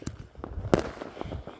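New Year fireworks burst around a residential neighborhood, several distant pops and one sharper crack in quick succession, fairly faint, with light footsteps nearby.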